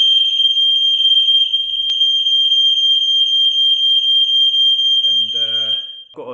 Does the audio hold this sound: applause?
no